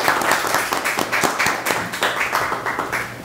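Applause from an audience at a Korean community association event reviewing a sports festival, with the claps coming unevenly and overlapping at moderate loudness for a few seconds.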